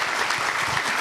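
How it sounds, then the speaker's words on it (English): Audience applause at an evening book talk, a dense, continuous wash of many hands clapping filling the room, steady and loud throughout the short stretch. "can we have a round of applause for David Grann?"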